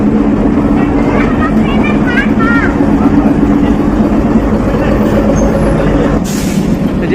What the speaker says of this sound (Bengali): এই যে ট্রেন ধীরে ধীরে স্টেশনে ঢুকতেছে